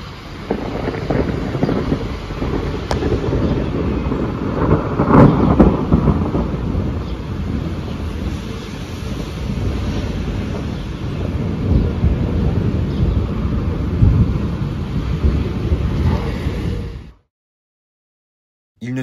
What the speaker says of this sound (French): ce magnifique impact de foudre datant du 2 juin